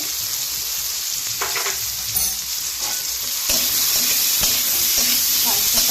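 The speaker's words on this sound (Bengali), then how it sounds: "ভালো করে ভেজে নেব" Spices and pumpkin stalks frying in a pan with a steady, close sizzle, joined by occasional scraping stirs of a utensil, with no talking.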